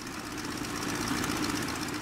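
SPAD S.XIII aircraft engine idling steadily while warming up in the flight sim Rise of Flight, a continuous close, even rumble with a fine throbbing pulse and no talk over it.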